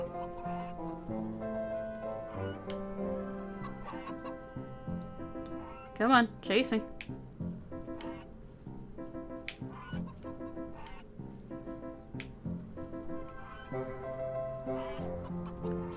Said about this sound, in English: I need to deal with that goose first.